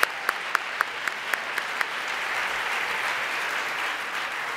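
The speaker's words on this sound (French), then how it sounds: "une bonne main d'applaudissements pour Frédéric Larocque" Gala audience applauding an award recipient, opening with a handful of sharp distinct claps that quickly swell into a dense, sustained roar of clapping from a large room.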